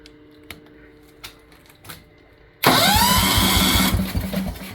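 A Kohler K241 10hp single-cylinder engine being cranked to start: a few quiet clicks and knocks first, then a loud, sudden burst of rapid rhythmic chugging from the starter turning the engine over, close up and continuous to the end.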